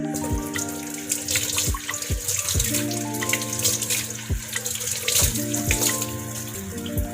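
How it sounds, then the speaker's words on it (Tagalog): Moringa leaves rinsed under a running kitchen tap, a steady stream of water splashing into a sink with irregular drips and soft clunks of leaves and hands in the flow throughout. "Hugasan muna natin yung ating malunggay."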